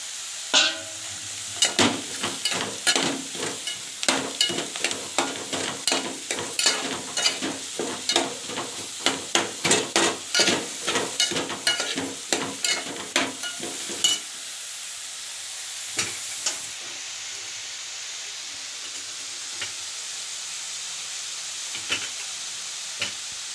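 Chopped ridge gourd and curry leaves frying in a pan, giving a steady sizzle with many rhythmic stirring scrapes for about fourteen seconds, then a quieter hiss with only occasional stirs.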